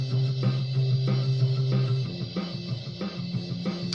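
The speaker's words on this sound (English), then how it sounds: "I found a drum loop that I thought was cool." A driving drum loop with a steady kick and snare pattern plays alongside a bass line in an indie rock studio setting, loud and continuous for the whole stretch with no voices.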